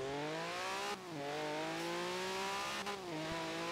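A car engine in the Forza Horizon 4 racing game drones at high revs and holds steady. Two brief drops in pitch mark gear shifts before it climbs again, loud and continuous with no voices.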